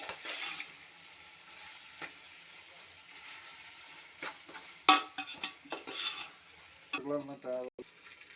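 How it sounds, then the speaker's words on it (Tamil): Kebab chicken is stirred in a pan for biryani, with a quiet frying hiss beneath scattered spoon scrapes and metallic clinks. The clatter grows busier toward the end. "அந்த கபாப் ரெடி பண்ண சிக்கனை தான் நாங்கள் போட்டிருக்கோம்"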